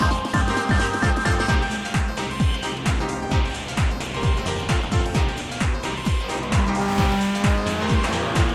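A Chevrolet Chevelle race car pits in a racing video game, with a rapid series of sharp engine downshift blips and revs under steady tire squeal and skidding, loud and close throughout.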